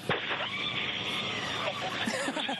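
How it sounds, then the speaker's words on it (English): Screaming and cheering from passengers inside a Blue Origin crew capsule during descent under parachutes, a loud sustained chorus of excited voices filling the whole moment with overlapping shouts. "Hear that screaming inside the capsule?"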